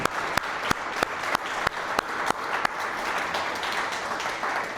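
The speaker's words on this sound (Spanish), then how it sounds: "Un aplauso al Señor" A church congregation breaks into applause, opening with a series of sharp, evenly spaced claps that merge into a dense, sustained round of clapping.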